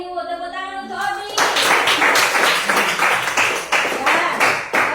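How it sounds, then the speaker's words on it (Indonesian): A classroom group of children claps for a classmate. After a brief voice at the start, a loud burst of clapping follows, with rhythmic, fairly close claps continuing to the end. "Tepuk tangan untuk Obi"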